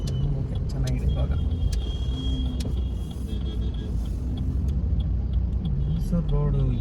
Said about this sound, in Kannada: ಮೈಸೂರು ರೋಡು ಏನು ಟ್ರಾಫಿಕ್ಕು, ಎಷ್ಟು ವೆಹಿಕಲ್ಸ್ ಇದೆ ನೋಡಿ